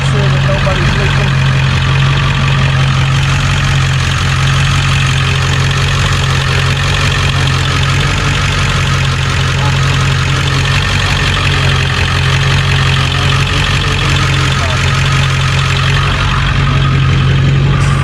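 A Ford F350 7.3 Powerstroke diesel idles loud and close, its steady low rumble and rhythmic clatter continuing unchanged throughout.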